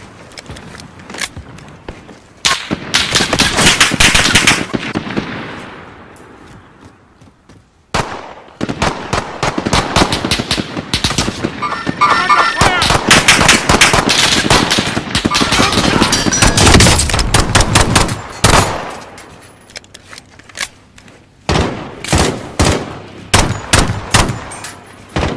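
Bursts of gunfire in a Call of Duty Warzone match, loud rapid volleys and single shots broken by short pauses, with scattered footstep-like clatter between them.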